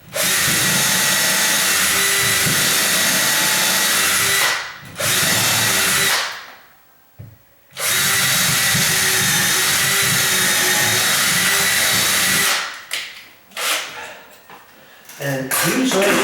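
A power drill whirs loudly and continuously while driving screws into a sagging bathroom door frame, with short pauses and restarts, close up, ending in a few choppy bursts.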